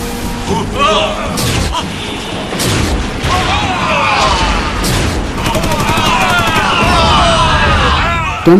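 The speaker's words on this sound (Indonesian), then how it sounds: "dan mereka semua terlihat tewas terkena tembakan meriam dari Ling Lingfat" Cannon fire from a helicopter in the 1996 action comedy film Forbidden City Cop, a loud barrage of booming blasts and crashes layered with music and shouting voices.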